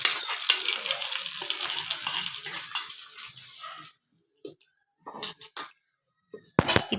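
Curry leaves spluttering in hot tempering oil for chutney, a dense close crackling sizzle that cuts off abruptly, followed by a few scattered clatters and soft knocks.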